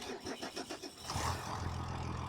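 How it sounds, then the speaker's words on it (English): A tractor engine starts in Farming Simulator 25 with a short series of rhythmic cranking pulses. It then catches into a steady, low idle rumble, faint and without talk. "I know Dagwin didn't really like this tractor."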